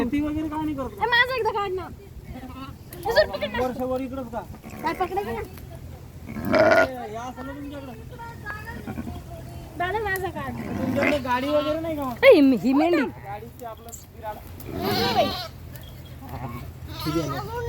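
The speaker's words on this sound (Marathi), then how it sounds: "इथे आम्ही फिरत होतो मेंढ्या आल्या भरपूर मेंढ्या" A flock of sheep with lambs bleats repeatedly, wavering calls overlapping close by at irregular intervals against a low background hum, with people talking now and then among them.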